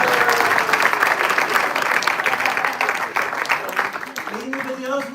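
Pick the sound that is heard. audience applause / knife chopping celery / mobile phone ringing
audience applause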